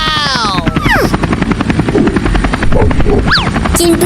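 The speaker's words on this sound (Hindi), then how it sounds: "चिंटुआ, थोड़ा सही से उड़ा हेलीकॉप्टर।" A loud, continuous whirring buzz of a small toy helicopter flying close by, with some whistly swooping tones over the motor drone.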